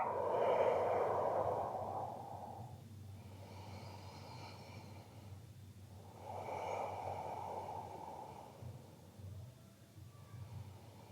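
Slow, deep breathing during a standing pose in a hatha yoga class. Long airy inhales and exhales swell and fade close to the microphone, with no talk.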